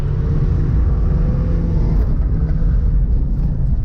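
BMW 318ti drifting at a drift event: a loud, steady, close engine rumble with a dense low-end roar that holds throughout without pause.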